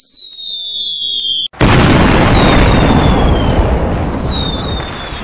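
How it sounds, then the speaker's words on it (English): Fireworks opening a parade celebration on the island of Sodor: a sudden loud boom cuts in after a high whistling tone, followed by dense continuous crackling bursts and descending whistles that carry on loudly to the end. "Let the fireworks begin!"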